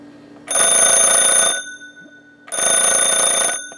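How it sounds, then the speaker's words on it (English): A Panasonic RC-6180 clock radio from the 1980s rings its big mechanical alarm bells in two loud, steady bursts of about a second each, separated by a short pause. "the kind of the neat feature was the alarm bells"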